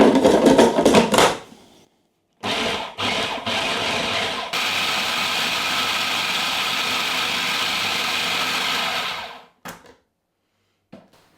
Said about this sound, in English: So now I'm going to whiz these up into a crumb.